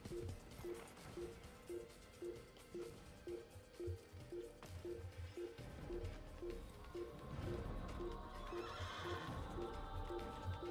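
A horse in the Assassin's Creed video game neighs and whinnies loudly several times, with hooves clip-clopping and a steady, busy in-game background underneath.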